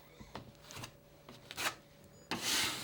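Several scraping strokes of a blade skimming excess joint compound off a wall joint over recessed screw heads, short rasping swipes at irregular intervals, close up, ending in a longer, louder scrape.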